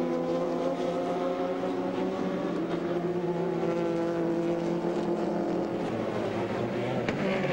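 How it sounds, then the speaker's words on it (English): Race cars, including an Audi, roar around the Laguna Seca track during a 2001 American Le Mans Series race, giving a loud, steady, droning engine note with shifting pitch that runs the whole time without speech. "now Magnussen has been able to close right up with Frank Biela and gets a launch down the straight now towards the Audi"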